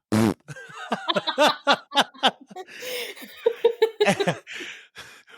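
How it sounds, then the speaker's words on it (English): A fart blurts out at the start, followed by chuckling and snickering laughter in short bursts among people talking. "no, wait, I got a fart"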